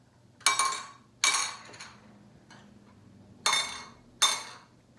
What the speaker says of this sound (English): we're using our glass blobs and our muffin tins for this